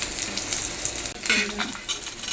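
Peanuts dry-roasting in a pan give a close, steady crackle and scrape of stirring for a couple of seconds, with a short rattle of the nuts moving partway through.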